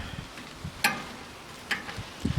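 Chicken pieces, breast included, browning in a hot pan over a flame give a steady low sizzle, with a few sharp clicks of stirring or utensil contact scattered through.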